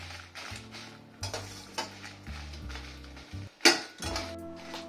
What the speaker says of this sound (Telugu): ఎండుమిర్చి ఇవి లైట్గా వేయించుకోవాలి మరి నల్లగా మాడిపోకుండా అండి అటు ఇటు తిప్పుకుంటా సిమ్లో పెట్టి వేయించుకోండి